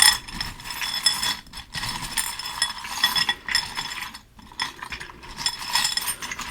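Stiff tarot cards riffled and mixed by hand in a quiet room, a steady papery clatter of overlapping flicks with brief pauses between bursts, close and moderately loud with no talking.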